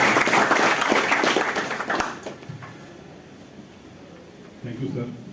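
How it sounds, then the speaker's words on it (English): An audience at an educational foundation's induction programme claps loudly for about two seconds, then the applause fades into quiet room tone before a voice begins speaking near the end. "give him a big applause"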